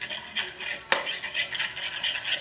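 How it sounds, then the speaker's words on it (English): A whisk or utensil stirs raw egg into Caesar salad dressing in a bowl, giving steady rhythmic scraping and clinking strokes with one sharper knock, close and moderately quiet. "get that mixed really well"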